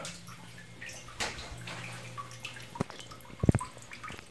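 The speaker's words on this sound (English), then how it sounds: "I have this going actually into the drain right here for the washer" Waste water from an RO/DI reverse osmosis and deionization unit runs into a household washer drain, giving a steady trickling wash with a few sharper drips and gurgles near the end, close and moderately quiet.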